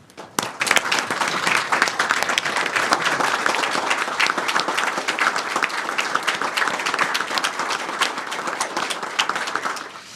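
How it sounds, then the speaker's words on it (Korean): A large audience gives sustained, loud applause in honour of doctors, nurses and nursing assistants who worked against COVID, dense clapping starting abruptly and holding evenly for about ten seconds. "모두 큰 박수 부탁드리겠습니다"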